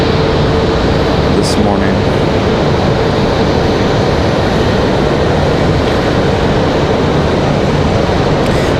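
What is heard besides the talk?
airplane arriving at Raleigh-Durham airport, flight from Miami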